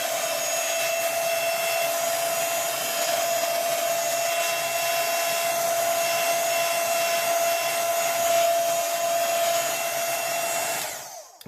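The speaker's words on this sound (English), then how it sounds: "Next thing I'm going to do is I'll just quickly dry that." A heat gun dries a collage page with a steady, loud blowing roar and a constant whine. It runs unbroken for about eleven seconds and cuts off abruptly at the end.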